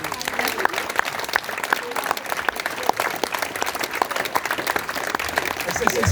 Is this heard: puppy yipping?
no